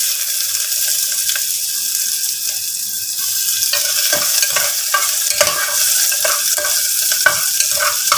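Garlic sizzles and is stirred in oil in a pressure cooker after cow skin has browned, a steady close frying hiss with scraping spoon knocks throughout and no talking.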